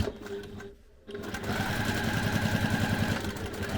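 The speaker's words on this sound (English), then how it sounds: "you need to baste around the sides, so just down the sides, so 1/8 of an inch down each side" A sewing machine runs steadily for basting stitches down the sides of a flap, a fast even mechanical chatter that dips briefly near the start before resuming loud and continuous.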